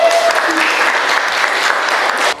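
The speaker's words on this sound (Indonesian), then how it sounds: "Kita beri tepuk tangan untuk Hafizah dan Isul." A classroom of students applauds two classmates, Hafizah and Isul, with dense, loud clapping that holds steady and then stops abruptly near the end.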